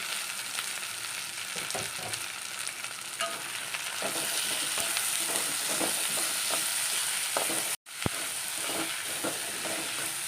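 Tomatoes with crushed ginger and garlic sauté in a pan for a beef curry, a steady close sizzle broken by scraping stirs, with a brief cut to silence near the end.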